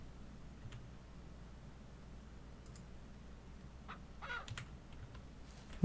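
Birds in the Ranch Simulator video game caw faintly a few times over a low steady hum, with some soft clicking in between and the calls clustered near the end.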